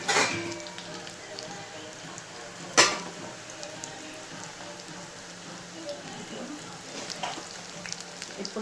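Pakodi fritters frying in hot oil, a steady close crackling sizzle throughout with one sharper pop near the middle and no talking.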